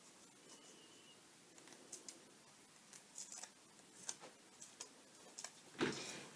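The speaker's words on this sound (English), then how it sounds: "cut the tape with your scissors" Scissors snip gold tape in a quiet room, a scattered series of faint, close clicks and cuts with one sharper snip near the end and no talking.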